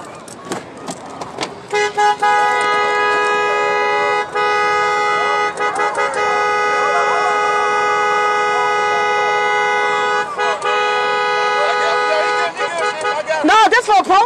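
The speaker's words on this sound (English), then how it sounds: "Honk your horns if Black Lives Matter." Several car horns honk at once in long overlapping blasts at a Black Lives Matter protest, loud and sustained, with voices shouting underneath and a final burst of honking at the end.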